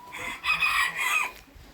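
A chicken gives a short, drawn-out call nearby, a brief squawking cluck over faint background noise.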